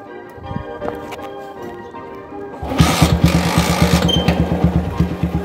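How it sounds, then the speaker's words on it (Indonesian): Budget flat tracker motorcycle, its engine in good health, fires up after a quiet stretch with faint handling noises and settles into a loud, close, rapid idle with a steady chugging pulse. "Ini motornya masih sehat banget sih mesinnya. Jadi sekali starter itu langsung nyala."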